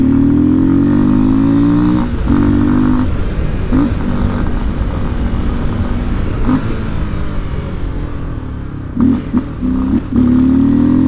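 Lander 250 motorcycle engine revving hard up close, with rising and falling pitch sweeps as it accelerates and shifts, plus a few short throttle blips near the end, loud and alone.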